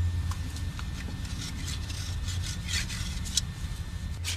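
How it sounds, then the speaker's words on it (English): A soft, steady rasping scrape of a round hoof rasp with a perforated blade shaving a horse's hoof wall, repeated in short strokes, close up with no voices. "You can hear the softer shaving action of the original's perforated blade."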